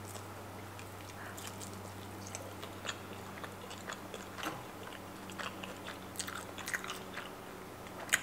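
Eating Korean kimchi pancake and kimchi dumplings, with soft close-up chewing, biting and light crunching over a faint steady hum.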